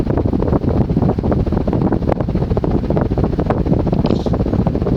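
A Key Largo Saff 52-inch ceiling fan spinning on its high setting gives a loud, steady broadband whoosh of moving air and motor hum, running without a break and with no talk.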